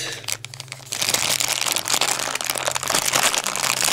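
Taped plastic packaging bag around a toy figure being handled: steady close crinkling and rustling that starts softly, then grows louder and continuous for several seconds.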